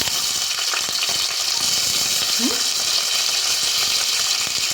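Mustard and cumin seeds splutter in hot oil for a lunch of okra sambar, a steady broadband sizzle with scattered crackles running throughout at close range, without any talk.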